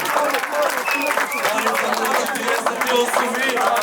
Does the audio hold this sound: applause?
yes